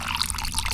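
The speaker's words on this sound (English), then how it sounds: "there's water coming out of both pipes" Water runs from both outlet pipes of an ITEHIL water filter as a brief, steady, close hiss of flowing liquid with no voices.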